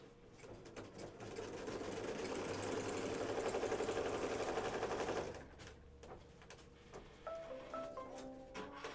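A sewing machine runs steadily for about five seconds while stitching the corner of a Kimberbell July 4th quilt panel, then stops. Quieter handling noises and faint thin tones follow.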